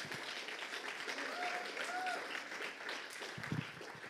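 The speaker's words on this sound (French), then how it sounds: "Est-ce qu'on peut donner un bon applaudissement au Seigneur?" Church congregation applauding for the Lord, a broad steady wash of clapping at moderate distance, with a voice or sung notes running underneath and a few louder claps near the end.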